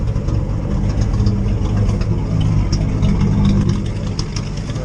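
The engine of a 1946 Chevy truck runs steadily at idle, a close, continuous low rumble with a slight rise in revs partway through.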